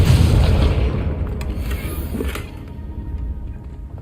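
A Confringo fire spell in Hogwarts Legacy bursts with a loud, deep booming explosion, and the rumble slowly fades away with no voices.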